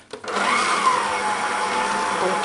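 A stand mixer kneads croissant dough on its lowest speed. The motor starts up and settles into a steady, fairly loud whirring hum that continues without a break.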